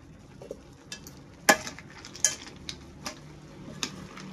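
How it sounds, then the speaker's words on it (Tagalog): Vegetables being stirred in a small wok, with scattered clinks and scrapes of a utensil against the pan over a soft, low sizzle; irregular, fairly close, no voices. "Kailangan ko siyang haluin para maluto din yung gulay"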